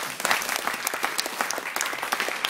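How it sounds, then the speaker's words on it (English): Steady applause from an audience at a Pecha Kucha presentation event, many hands clapping densely and continuously at a fairly loud level, with no voices standing out. "So give a big applause."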